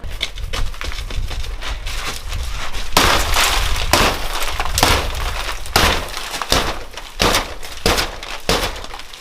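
Window glass coated with 14 mil interior and 7 mil exterior security film being struck and broken, loud repeated cracking and shattering impacts in irregular bursts, with crunching debris between blows.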